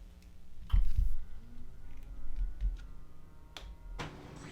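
A Brother printer feeds and prints on an envelope, giving a quiet run of mechanical clicks, ticks and low whirring with a few sharper knocks.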